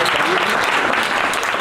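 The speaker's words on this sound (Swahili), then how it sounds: "Nisaidie tumpigie makofi" An audience at a campus discussion session applauds to welcome a guest, a steady, dense burst of clapping filling the room throughout.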